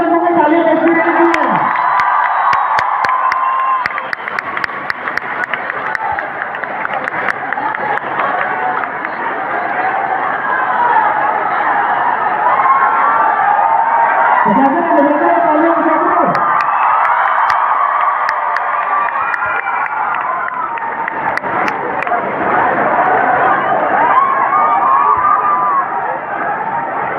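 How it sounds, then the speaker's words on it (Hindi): A large audience at a motivational talk in Prayagraj keeps up sustained, loud applause mixed with cheering for nearly half a minute, with a speaker's voice rising briefly above the crowd. "जब तक आखिरी इंसान बैठ नहीं गए तालियां बजती रहनी चाहिए।"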